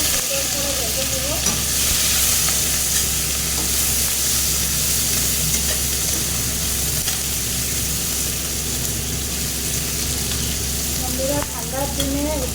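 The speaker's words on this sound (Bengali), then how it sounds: "ডিমটাকে এখন সুন্দর করে ভেজে নেব।" Egg with chopped onion and green chilli fries in a pan, producing a loud, dense, unbroken sizzle that holds steady from start to end with faint stirring scrapes underneath.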